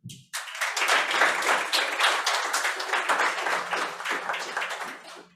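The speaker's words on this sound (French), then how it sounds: "Applaudissez-le." An audience applauds a speaker at a talk on myths about the brain, starting abruptly with lively, fairly close clapping that holds steady, then tapers off, with a faint hum underneath.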